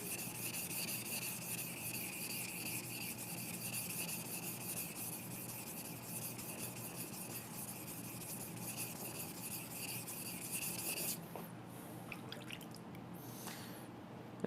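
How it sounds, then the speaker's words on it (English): A knife blade is rubbed on a medium grit whetstone while being thinned, heard as a faint, continuous gritty scraping that runs steadily and close, ending in a brief pause with lighter strokes. "So I'm going to use a medium grit stone here for a second to give you guys an idea."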